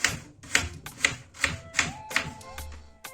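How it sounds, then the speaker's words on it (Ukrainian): A knife chops onion on a board in quick, regular crisp taps, about eight sharp strokes close by with a faint hum behind. "І буду зараз ось такими міленькими кубиками нарізати цибульку."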